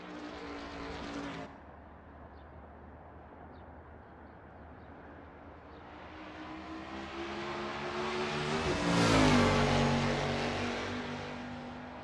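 Video-game race cars, 1989 Camaro Z28 IMSA GTO-type machines, rev and drone while warming up on the Daytona 24-hour road course, engine pitch rising and falling before a loud car sweeps close past near the end. No voices.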